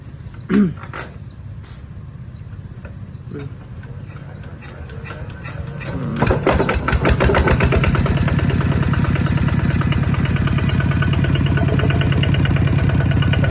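A heavy diesel engine on a hand-crank-start Kubota ZT110 Plus tractor cranks and catches with a rattling roar, then settles into a loud, steady, throbbing idle.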